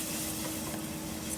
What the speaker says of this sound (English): So I put some red wine. Deglaze the wine.